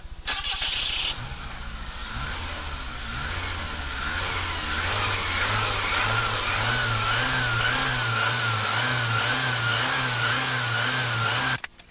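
A car engine runs loud and close, starting with a low rumble and settling into a steady drone with rhythmic pulsing revs, with no voices over it.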